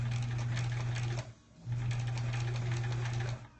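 Sewing machine stitching the center of a sampler quilt block, a steady close hum that stops briefly, then runs again in a second even burst.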